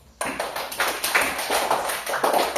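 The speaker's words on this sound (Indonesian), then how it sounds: "Beri tepuk tangan untuk untuk kelompok 1." A classroom group claps for a student group, a sudden burst of brisk, uneven hand claps starting after a brief quiet moment and continuing close by.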